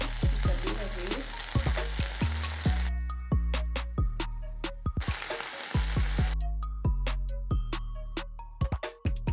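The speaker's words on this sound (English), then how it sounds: "then you're gonna let it bubble for a minute" Honey and soy sauce sizzle and bubble steadily in a pan, broken by repeated sharp clinks and scrapes of a utensil against the pan, with no talking.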